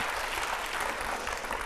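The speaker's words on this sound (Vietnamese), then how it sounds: "Một tràng pháo tay cho nhà trai nha." Studio audience at a television dating show claps for the groom's family, a short burst of dense, steady applause.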